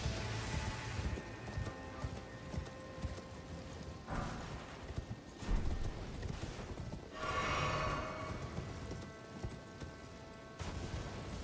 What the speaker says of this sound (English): Imagine how hard it must be to drink from a galloping horse.